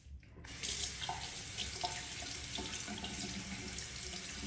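Tap water runs into a sink while makeup brushes are rinsed of cleaning alcohol, a steady close splashing flow that starts abruptly after a brief moment of quiet and continues without pause.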